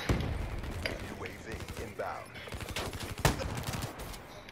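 Rapid bursts of automatic gunfire from a weapon in Call of Duty: Black Ops III, repeated shots and thumps running through the whole stretch with one sharp loud crack near the end, mixed with game noise and someone talking over it.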